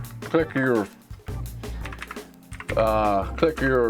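Clicky keystrokes from a Havit KB389L budget keyboard with blue switches rattle faintly beneath a man's close, continuous talking.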